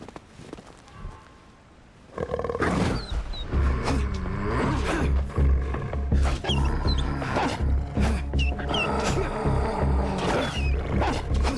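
Two wolves in the Winter Survival video game, with loud snarling, growling and attack noises building after a quiet start, mixed with thumps and scuffling.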